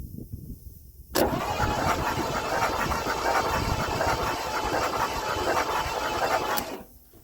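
An abandoned Mercury outboard engine, left sitting for 13 years, cranks and catches into a loud steady running roar after about a second of quiet, then cuts off near the end.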